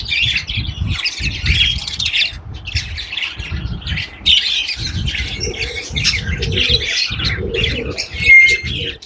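A pair of golden pheasants, including a brightly coloured male, squawks loudly and repeatedly in harsh, overlapping bursts that carry on without pause for the whole stretch, close by and with no voices.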